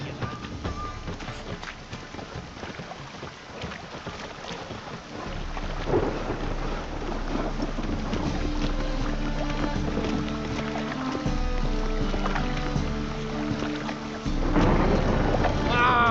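Steady rain pours down in The Witcher 3, with rolls of thunder swelling midway and again near the end, a dense, continuous wash of falling water in a game storm.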